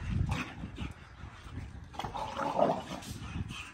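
Big dogs close by, whining and whimpering with a couple of soft yips, a faint, intermittent sound with no talking over it.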